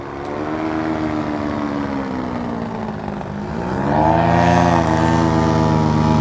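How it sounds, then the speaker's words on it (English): A loud airboat engine drones steadily, its pitch dipping and then swelling louder as the craft passes close by. "That's the swamp copter."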